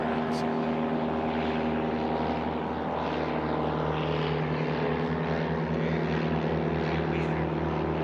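A Rans STOL propeller airplane in a STOL drag race drones with a steady, loud engine and prop hum, throbbing as it slows, while a commentator talks over it.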